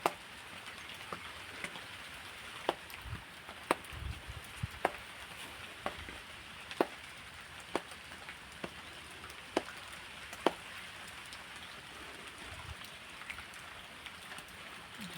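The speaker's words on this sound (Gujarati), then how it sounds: "જો આવે છે વરસાદ." Steady rain falls with a soft continuous hiss, scattered sharper drips and taps popping out now and then, no voices.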